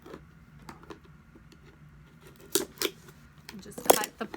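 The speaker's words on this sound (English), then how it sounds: "And just cut the plastic." Scissors snip through plastic product packaging during an unboxing, giving a few sharp close crunching cuts in quick succession over quiet room background.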